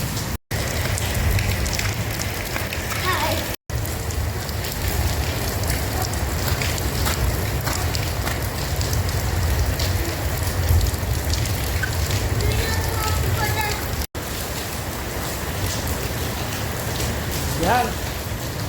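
Heavy rainfall in Abu Dhabi, a steady dense patter of rain on surfaces that holds loud and unbroken throughout, with faint voices now and then.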